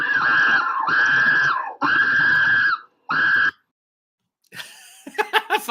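A person screams in loud, sustained bursts, four harsh cries with short gaps, then quieter laughing or snorting sounds close to the microphone.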